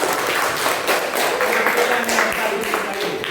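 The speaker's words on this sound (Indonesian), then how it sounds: "berikan tepuk tangan yang sangat meriah untuk kelompok 3" An audience of classmates applauds a presenting group in a classroom lesson, steady overlapping claps filling the room at moderate loudness, with some voices mixed in.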